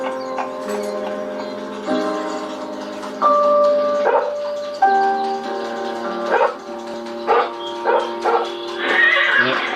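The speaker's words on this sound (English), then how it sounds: "Final horse for this year's hits team is Thunder" A horse whinnies and neighs repeatedly in loud, close bursts, with some faint clopping and other animal noises mixed in.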